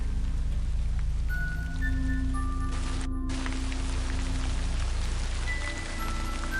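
Steady rain pours in the horror game Forest of the Drizzling Rain, a constant dense hiss with faint musical tones layered over it.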